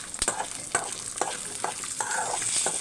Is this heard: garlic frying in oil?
yes